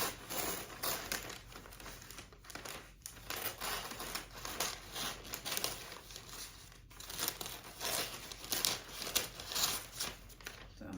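Wrapping paper being cut with scissors and handled while gifts are wrapped: irregular crinkling, rustling and snipping sounds, close and fairly quiet, continuing throughout.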